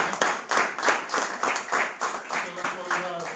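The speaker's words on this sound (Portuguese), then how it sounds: "peço um aplauso para" Audience applause at a lecture on Covid: a close, loud round of clapping with an uneven pulsing rhythm, with voices faintly mixed in.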